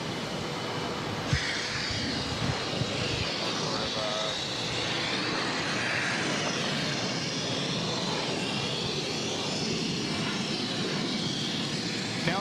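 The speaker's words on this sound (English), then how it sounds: "American Airlines flight 2892 taking off to Portland, Maine on the A319." An American Airlines Airbus A319 bound for Portland, Maine, takes off from runway 22 right at Boston Logan, its engines giving a broad, loud, continuous roar that fills the whole stretch, with talk occasionally underneath.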